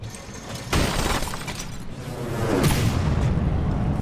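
Heavy guns blasting in a naval combat game, From the Depths: dense, loud crashing bursts with shattering, metallic debris, starting suddenly and continuing as rolling booms to the end, with no talking.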